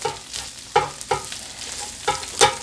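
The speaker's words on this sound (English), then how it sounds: "I'll put my peppers and onions." Peppers and onions sizzle on a flat griddle, with a steady frying hiss broken by several sharp scraping strokes of a spatula chopping and turning them close by.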